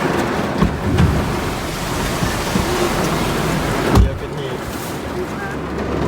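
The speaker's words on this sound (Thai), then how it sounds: "ฝนตกหนักมาก" Heavy rain pours down steadily on a campsite in Nakhon Nayok in a dense, loud hiss, with occasional thumps and distant rumbles underneath.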